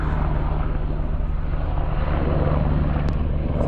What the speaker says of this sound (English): Chopper, not landing on the Sugarloaf, I hope.